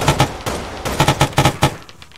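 Enemy gunfire in a Third Battle of Kharkov war video game, shots fired through a window: a rapid, uneven burst of loud, close cracks that thins out and fades near the end, with no talking.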